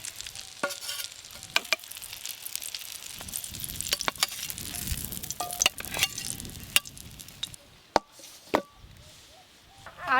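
Stuffed eggs fry in oil in a pan with a soft continuous sizzle and scattered sharp clicks and taps of a utensil, close and moderately loud.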